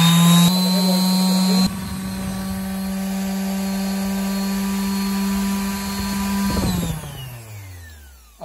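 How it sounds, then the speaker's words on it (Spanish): A random orbital sander motor whirs up and runs at a steady high-pitched hum, then winds down as it is switched off near the end. "una lijadora excéntrica nueva"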